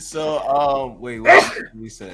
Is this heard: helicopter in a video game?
no